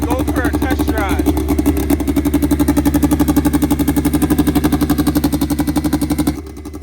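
A car engine idles steadily outside while warming up before a test drive, a loud, even rhythmic throb that holds for several seconds, then drops off abruptly near the end.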